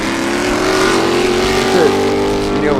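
Race car engine at open throttle at Sebring, a loud, steady, close roar holding a high pitch for the whole short moment, with a slight pitch dip near the end.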